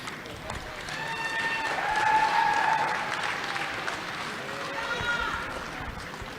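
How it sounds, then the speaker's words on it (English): Commencement audience at Navajo Technical University applauding a graduate, sustained crowd clapping that swells in the middle and eases off, with cheers and whoops rising above it. "Give him a round of applause."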